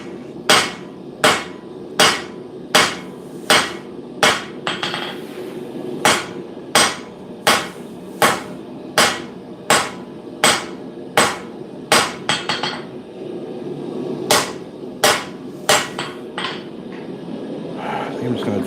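A smith's hammer strikes hot steel for a Roman pugio blade in a steady, ringing rhythm, roughly twenty sharp close blows spaced under a second apart with a brief pause midway, over faint workshop background.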